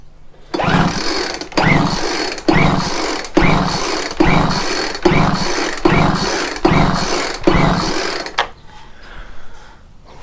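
A Craftsman leaf blower with low compression, set to full throttle, is cranked by its recoil starter in eight rhythmic, rasping pulls, each a loud whirring chug, followed by quiet.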